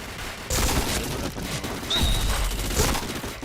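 Gunfire from a mobile shooter video game: a couple of loud bursts of shots with booming impacts close up, filling most of the short stretch.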